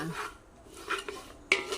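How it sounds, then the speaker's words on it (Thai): Metal utensil scrapes and taps against a pan in a few quick strokes, with a faint dry rustle of sesame seeds being stirred as they roast. "คั่วไปเรื่อยๆค่ะ"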